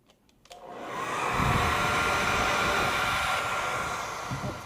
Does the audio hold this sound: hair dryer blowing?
yes